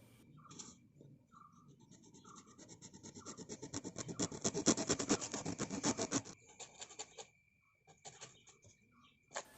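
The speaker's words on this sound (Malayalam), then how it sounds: "ആ ഇല്ലിക്കമ്പിൻ്റെ അടിയിൽ നിന്ന് ഏകദേശം തൊട്ടടുത്ത മുട്ട് വരെ, അതായത് ഒരു 50 സെൻറ്റിമീറ്റർ നീളത്തിൽ നമുക്കൊരു പോർഷൻ കട്ടിയെടുക്കാം" A bamboo stick is sawn or cut, giving a rhythmic rasping scrape that builds louder toward the middle and then stops, with faint bird calls in a quiet outdoor setting.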